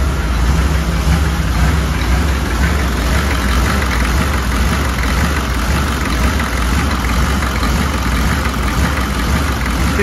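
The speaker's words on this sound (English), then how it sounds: "See the Loping idle?" A diesel truck engine with a faulty fuel injection pump idles with an uneven, loping rhythm, steady and close for the whole stretch with no voices.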